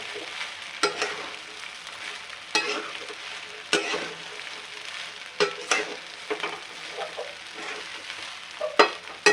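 Sabudana khichdi sizzles in a pan while a spoon stirs it, giving irregular scraping strokes over a continuous frying hiss, close and clear with no speech.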